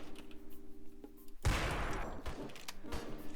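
Gunfire from guns in a video game, a sudden burst of rapid shots with a noisy crackling tail, loud and near, following quieter ticking sounds.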